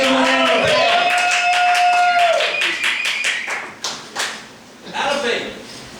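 Claps break out among the audience at a comedic tabernacle-style stage show, scattered and uneven beside a sustained sung or shouted voice, then thinning into sparse bursts as voices continue.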